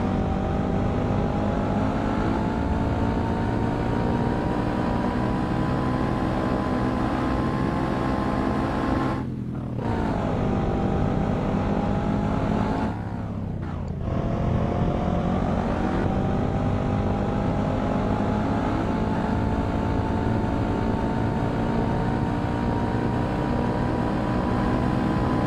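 A car engine drives steadily in a mobile video game, a continuous loud motor drone with two brief dips partway through.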